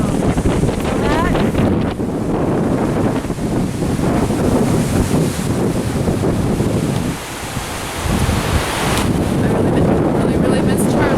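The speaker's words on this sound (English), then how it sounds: "Oh, do you like the wind?" Strong wind buffets the microphone on a windy day in Los Angeles, a loud continuous roar with gusty swells and a brief lull, while a person talks under the noise.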